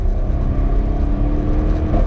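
Car fitted with an upgraded Akrapovic exhaust system, a loud, close, deep engine burble holding a steady low drone throughout, with no speech.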